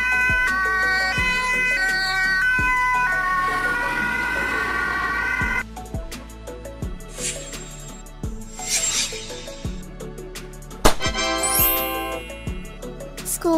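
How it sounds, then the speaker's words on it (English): An ambulance siren wails in long rising and falling sweeps, loud and close, with a second siren pattern cutting in partway through and continuing to the end, no voices present. "Ambulance, a vehicle used to transport patients to the hospital in emergencies."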